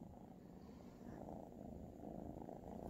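A house cat purring softly and steadily at close range, a low rumbling flutter with no voices over it.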